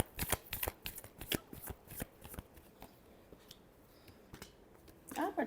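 A deck of cards being shuffled up close during a tarot-style reading, with crisp riffling bursts and flicks, fairly quiet, ending in a louder flurry of cards.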